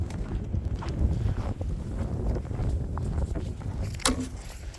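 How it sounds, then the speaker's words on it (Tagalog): Strong wind roars outdoors on a snowy day, a continuous low, buffeting rush that batters the microphone with gusty swells throughout. "Malakas yung hangin."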